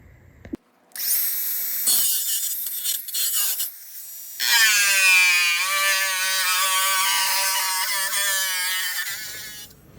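A power tool cuts into the body panel of an MGB GT under restoration. Short bursts build into a loud, sustained, high metallic whine that shifts in pitch as it bites, then cuts off. No voices.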